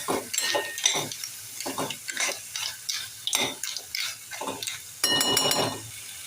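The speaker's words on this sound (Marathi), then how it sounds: "परतून घेऊया" Clam masala is stirred and sautéed in a pan, the ground spice paste scraped repeatedly in quick rhythmic strokes with light sizzling and metallic clinks, close and alone without talk.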